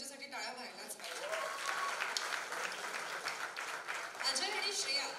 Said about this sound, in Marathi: एकदा अजय अतुल यांच्यासाठी टाळ्या व्हायलाच पाहिजे।